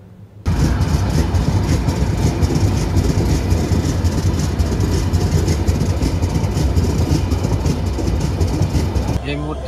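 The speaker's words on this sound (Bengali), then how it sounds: "আমাদের ট্রেনটি বঙ্গবন্ধু সেতু ওয়েস্ট স্টেশনের উদ্দেশ্যে রওনা দিয়ে দেয়" The Dhumketu Express intercity train from Rajshahi to Dhaka rumbles loudly and steadily from the inside as it pulls away from a station, a continuous rattling roar that begins abruptly and runs almost to the end.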